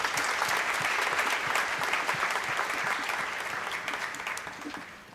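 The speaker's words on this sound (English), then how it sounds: "Please give them a big round of applause" A large audience at a college valedictory function claps loudly and steadily, then the clapping gradually fades toward the end.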